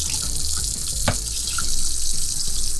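Water runs steadily from an RV faucet, a constant close hiss with a brief splash or clunk partway through.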